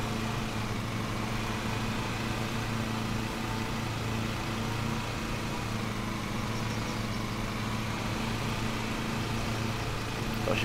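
Riding lawn mower tractor engine from the Lawn Mowing Simulator video game, running steadily with a continuous idling drone at constant loudness, alone without talk.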